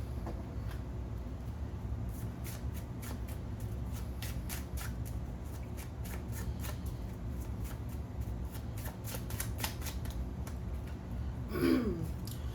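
Tarot cards being shuffled over and over, a soft riffling patter of quick card flicks and slides at close range, fairly quiet against a low background hum, with a brief louder rustle near the end.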